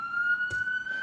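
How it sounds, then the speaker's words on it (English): A wailing ambulance siren passes outside, a steady, loud high tone that runs the whole second alone, with a brief thump partway through. "that ambulance is really loud"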